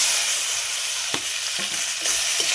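Boiled kalla and tomato frying with curry leaves and black cumin, a steady broadband sizzle with a few sharp spatula scrapes and clicks against the pan, close and continuous, no voices.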